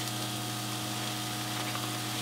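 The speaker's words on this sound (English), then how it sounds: "See how it's boiling right there?" Spaghetti boiling in a pot on the stove, a faint, continuous bubbling hiss with a steady low hum underneath, unchanging across the short stretch.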